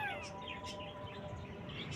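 A cat meows close by, giving a few short, rising and falling cries over a quiet indoor background.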